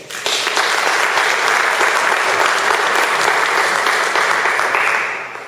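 An audience at a 2013 mayoral debate applauds the candidates, a loud, dense, sustained wash of clapping that fades out at the end.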